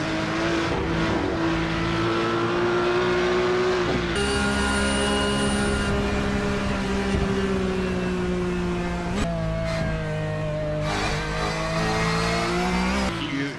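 A Porsche race car in a VLN endurance race, number 337, roars loudly and steadily at high revs, with pitch shifts as it changes gear, all under continuous engine noise.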